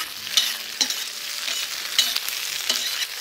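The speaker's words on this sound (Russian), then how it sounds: "Теперь отправляем сюда лук с перцем." Onion and pepper fry in a cauldron over a campfire, giving a bright, continuous sizzle with regular scraping strokes as they are stirred, close and fairly loud.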